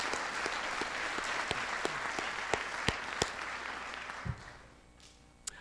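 Audience at a middle school fall band concert applauds teachers and administrators, a dense clapping wash that gradually fades out, with a few sharp individual claps near the end.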